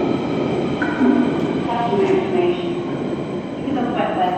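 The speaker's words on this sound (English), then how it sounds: "Just missed the train, didn't we?" A London Underground train pulls out of a station on a snowy day, a steady rumbling roar with faint wheel squeals rising over it, heard close from the platform while people talk nearby.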